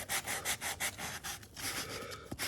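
Rhythmic rubbing strokes of a sanding sponge around the contours of a wooden chair, about a dozen quick back-and-forth passes, close and fairly quiet.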